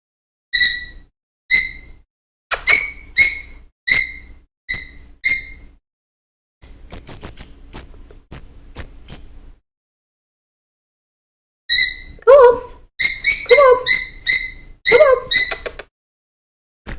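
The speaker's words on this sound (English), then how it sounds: "I just got distracted off the noisy bird." A noisy bird calls loudly and close by in repeated bursts of shrill, squeaky chirps and squawks, with clear gaps between the clusters and no talking.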